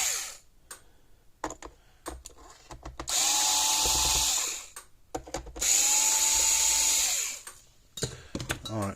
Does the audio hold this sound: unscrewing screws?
yes